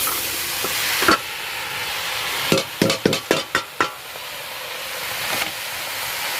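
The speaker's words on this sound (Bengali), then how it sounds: "এই পালং শাকগুলো এবার দিয়ে দেবো কড়াইতে" Fresh spinach goes into a hot wok (kadai) and hisses steadily, while a quick run of six or seven scraping spatula strokes stirs it, close and fairly loud, with no talking.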